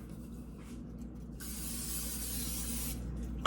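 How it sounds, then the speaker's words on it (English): A can of kitchen cooking spray hisses onto a baking sheet in one steady, close burst of about a second and a half, over quiet room hum. "some kitchen spray"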